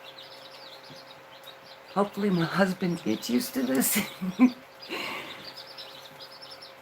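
Australorp chicks, a dual-purpose breed, peeping in a brooder indoors at home: faint high chirps run throughout, mostly underneath someone talking briefly.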